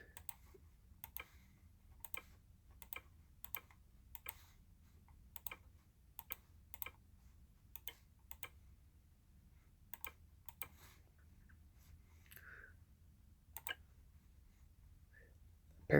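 Keys tapped in short bursts on a scan tool's touchscreen or keypad during account setup, quiet and close, with irregular clusters of clicks and pauses between them, alone without talk.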